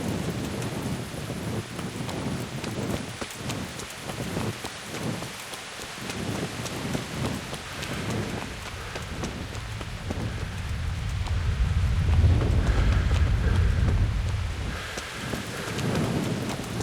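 Rain and thunder at night in the medieval game Kingdom Come: Deliverance, a steady hiss of rainfall with a deep rolling rumble of thunder building in the middle, no voices.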